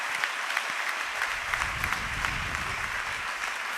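A church congregation applauds throughout a Sunday thanksgiving service, with steady, dense clapping from a large crowd that holds an even level from start to finish.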